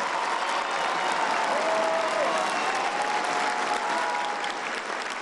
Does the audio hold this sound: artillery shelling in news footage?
no